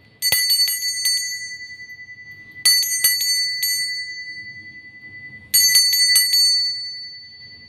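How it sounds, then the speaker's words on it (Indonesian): A small bell rings out in three bright bursts of rapid strikes, each with a sustained, shimmering ring that fades before the next, clear and close against a quiet background. "kita akan memulai dengan ditandai lonceng berbunyi"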